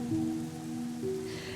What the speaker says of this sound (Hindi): रिमझिम बारिश